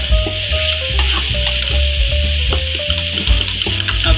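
Mashed roasted brinjal frying in a pan for bharta gives a steady, loud sizzle with repeated scraping and stirring knocks and a faint tonal ring throughout.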